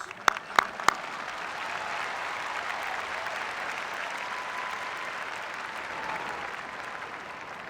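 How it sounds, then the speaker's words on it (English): Audience at the University of Washington commencement applauds the graduates: a few sharp early claps swell into broad, steady clapping that holds at moderate volume from a large crowd. "These graduates, yes, that's worth an applause"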